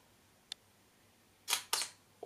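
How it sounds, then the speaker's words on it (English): A Panasonic camera shutter on a long exposure: a faint click, then after a pause two sharp, close clicks of the shutter opening and closing about a quarter second apart, in a quiet room. "hearing the shutter going open, close"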